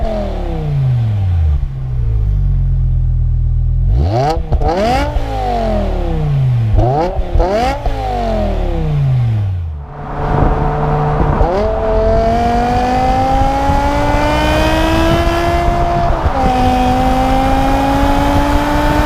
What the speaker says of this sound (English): we've got a couple of clips coming up where we're comparing the standard exhaust